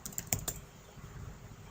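Quick, light keystrokes on a computer keyboard: a short cluster of crisp clicks at the start, then quiet room tone.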